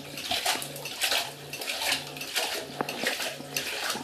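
A homemade duck butt pulser decoy spraying water up onto its tail, heard as a continuous gurgling, splashing wash with a regular low pulsing hum beneath it, fairly close.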